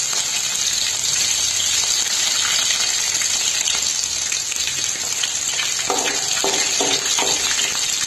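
Mustard seeds and green chillies sizzle in hot oil with a loud, dense hiss and scattered popping crackles, steady and close throughout.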